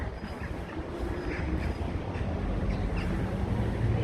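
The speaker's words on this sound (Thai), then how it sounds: "บรรยากาศในส สถานีรถไฟนะจ๊ะ" A Thai train station's ambience: a steady, loud wash of low rumble and broad hiss runs throughout, with faint scattered clatters and distant higher tones on top and no one speaking.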